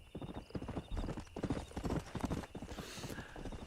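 Horse hooves clip-clop in the Red Dead Redemption video game, a brisk, even rhythm of close, crisp hoof strikes that continues throughout, with a soft whinny-like tone and faint background ambience.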